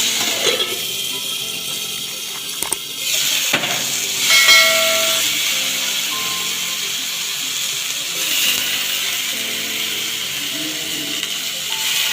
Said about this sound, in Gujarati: થોડુંક લસણ નાખીશું